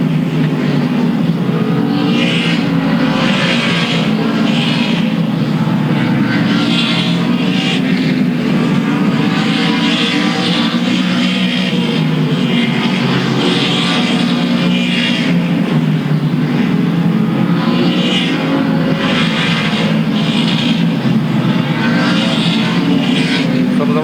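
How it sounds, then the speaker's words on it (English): Late model stock cars race down the front straightaway at Louisville Motor Speedway, a continuous loud engine roar with rising and falling revs as the pack passes, no talk over it. "He'll bring along Billy Bigley in the number 28 around the outside of Alexander as they move down the front straightaway"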